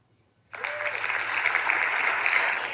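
A giveaway spin wheel plays a canned applause sound effect that starts abruptly after a short quiet pause and carries on as a steady burst of crowd clapping.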